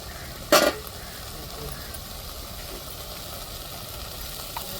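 Kulambu masala hitting hot oil in a pan for egg curry: one brief, bright sizzling burst as it goes in, then a low, steady frying hiss.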